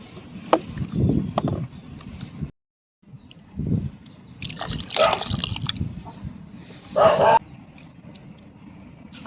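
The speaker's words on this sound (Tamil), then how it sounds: "நம்ம கொஞ்சம் தண்ணி ஊற்றிக்கலாம்" Water pours into a pot of onion kurma curry in a few short splashing bursts, broken by a brief silence, with faint voices in the background.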